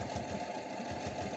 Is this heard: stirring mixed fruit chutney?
no